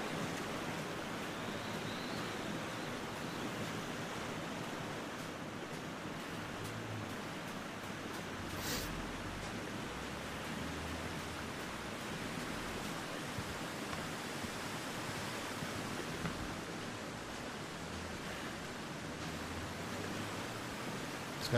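Steady broadband rush of a waterfall in the wintry survival game The Long Dark, a constant dense roar of falling water with no voices over it.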